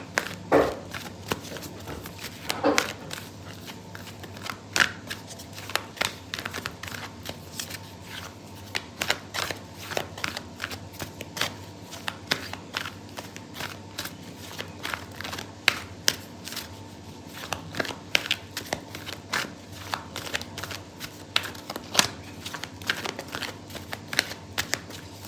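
Tarot cards shuffled steadily by hand at close range, a continuous papery riffle and slide with repeated soft flicks running throughout, no talking.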